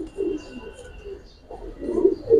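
Pigeons of fancy colored breeds cooing softly nearby, low rolling coos in two short bouts separated by a brief lull.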